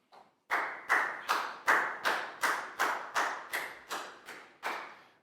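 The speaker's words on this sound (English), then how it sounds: "Big round of applause for Bangpon," Children in a Year 4 maths class clap together for a classmate in about eleven slow, evenly spaced unison claps, crisp and close, with no talking.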